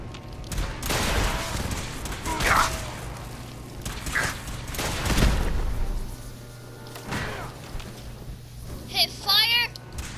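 Gunfire from the video game Fallout 4 bursts out in several sharp, separated shots mixed with thuds, while character voices speak over the action.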